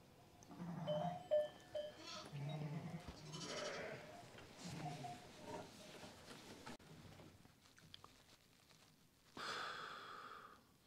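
Sheep penned for the night at a lone mountain farm bleat faintly from a distance now and then, awaiting lambing, with soft rustling and breathing between the calls.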